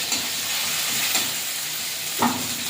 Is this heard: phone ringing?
no